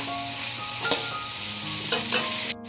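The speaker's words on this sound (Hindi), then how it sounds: "चिकन को हमने इस ऑयल में अच्छे से फ्राई कर लिया" Boneless chicken for a jalfrezi fries in hot oil with a steady, close, dense sizzle, broken by a few scraping stir strokes; no one speaks.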